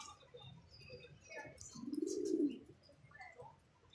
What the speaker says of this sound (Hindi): पहला कबूतर ये है